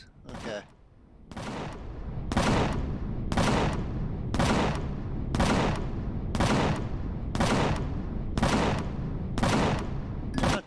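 A turret in Empyrion Galactic Survival fires a long run of heavy, booming shots at a steady pace, about one per second and roughly ten in all, each loud and sharp with a ringing tail.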